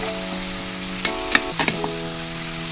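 Ground pork with sautéed aromatics sizzles in a pan, a steady close frying hiss with a few sharp scrapes and clinks from stirring midway, no voices.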